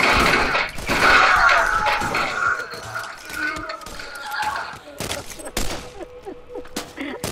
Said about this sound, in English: My shotgun is extremely lackluster.